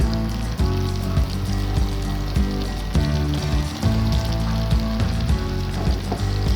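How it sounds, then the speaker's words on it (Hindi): Potato pieces frying in spiced masala for aloo gobi, a steady loud sizzle and crackle with frequent stirring scrapes, close and continuous with no talk. "यहाँ आलूओं को भी हमने 4 से 5 मिनट ज़रूर भूनना है"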